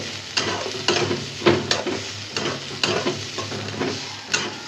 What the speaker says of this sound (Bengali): রসুন আর পেঁয়াজ দিয়ে দিচ্ছি, একটু ভাজা ভাজা করিয়া